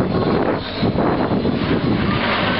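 An aerobatic aircraft flies a slow roll at an air show, its engine a broad rushing roar heavily mixed with wind buffeting on the microphone, loud and continuous.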